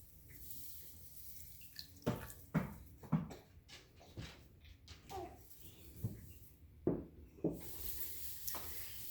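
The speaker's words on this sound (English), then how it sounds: "I'll put some water and I'll pour it." Water poured into a children's outdoor soup of grass and pine cones, heard as a string of short splashes and trickles with soft gurgles, close by and fairly quiet, with no talk over it.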